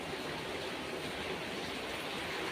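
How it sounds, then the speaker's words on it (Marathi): Heavy rain pours down outdoors as a steady, even, broadband roar, fairly faint and unbroken throughout. "बाहेर खूप पाऊस चालू आहे जोरात"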